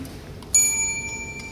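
A debate timer bell strikes once sharply and keeps ringing, a bright metallic tone that decays slowly over the rest of the moment, heard alone without talk.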